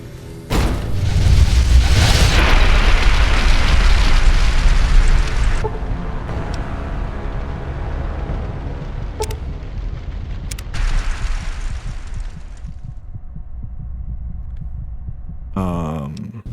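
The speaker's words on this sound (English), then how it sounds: "Grenade, maybe?" A grenade explosion in Fallout: New Vegas, in Vault 22: a sudden loud, broadband blast lasts several seconds, then decays into a long rumbling tail with a few sharp sounds later on.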